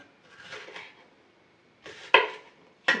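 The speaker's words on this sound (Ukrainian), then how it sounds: "Тепер нарізаю перець." A few crisp cuts and knocks of a knife slicing peppers on a board, spaced irregularly, close and clear in an otherwise quiet room.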